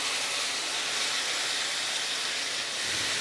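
Spiced masala paste with yogurt sizzling in a pan on low heat, giving a steady, even frying hiss that stays loud and continuous throughout, with no talking.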